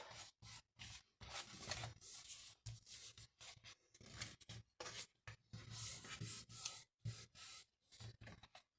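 Paper for a scrapbooking project being scored along its fold lines, heard as close, dry scraping and rubbing strokes in short bursts with brief pauses between, and no talking.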